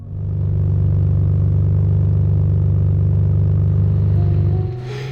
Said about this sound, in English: They took the resonators off, so while it makes a really cool, loud, rumbling sound, it does get too much and deafening.